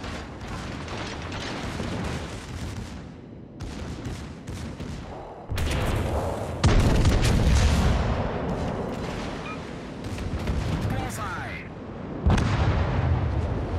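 Naval gunfire and heavy explosions in a warship video game as a Musashi battleship is destroyed, with dense rumbling blasts and booming bursts that build louder through the second half, under a busy game soundscape.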